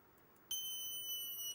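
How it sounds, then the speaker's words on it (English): A synthesizer plays a steady saw wave tone. It is a bright, buzzy, harmonic-rich note that starts abruptly, holds for about a second and cuts off, faint and with no talking. "There's a saw wave here."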